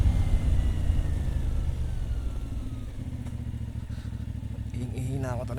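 A motorcycle engine runs steadily throughout at close range on a loop ride near the Kaybiang Tunnel, its low rumble constant, with speech and wind noise over it.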